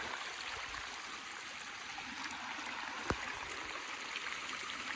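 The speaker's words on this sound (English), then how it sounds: "Here's the creek we built with the WSD apprentices" Shallow creek water runs steadily over small step pools in early spring, a constant broadband rush and trickle with one brief knock partway through.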